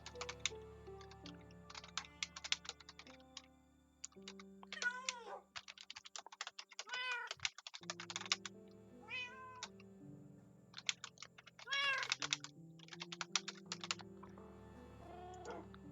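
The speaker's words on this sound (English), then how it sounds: "Aggressive typing." Rapid bursts of computer keyboard typing during a Minecraft session on Xbox 360, clustered in quick irregular flurries over steady game music, with cat meows occasionally cutting in.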